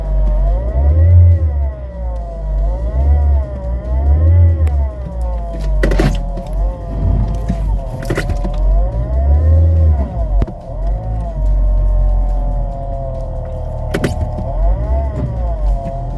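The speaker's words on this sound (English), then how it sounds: "I started having a noise, a really weird noise when I would accelerate." A 2015 Chevrolet Sonic with a failing alternator gives off a loud, steady whine over the engine as it accelerates, with the pitch rising and falling alongside the revs. No one speaks.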